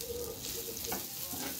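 Close frying sizzle of a tempering for beef and goat nihari being stirred in the pan after salt is added, a steady crackle broken by scraping strokes, with no talk.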